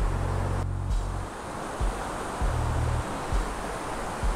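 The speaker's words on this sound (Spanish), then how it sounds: "La cascada en la parte de arriba. Aquí se ve donde sale. Y esta parte es donde baja." Waterfall in Cuetzalan, in Puebla's Sierra Norte coffee country, gives a steady, fairly loud broadband rush of falling water with a few low bumps, and no voices are heard.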